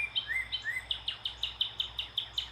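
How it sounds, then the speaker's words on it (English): A cardinal in Arizona singing a high-pitched song: a couple of slurred whistles followed by a fast, even series of bright repeated chip notes, clear and fairly close. "this cardinal from Arizona also has a higher pitched song than the ones I'm used to hearing in Kentucky."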